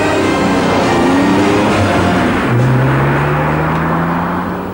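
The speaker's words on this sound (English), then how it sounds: "Driving the NSX on the open road really is a very simple task." A Honda NSX sports car drives along an open road, its engine holding a smooth, steady note that rises gently in pitch as it pulls, with constant road and wind noise and no talk.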